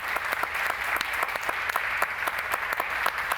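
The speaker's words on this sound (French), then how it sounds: "On peut les applaudir." A small audience claps in sustained applause, individual hand claps distinct and evenly spread across a short, moderately loud burst without talk.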